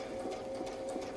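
A quilting sewing machine hums in a steady, quiet, fast run of stitching along a feathered leaf template, alone with no talk.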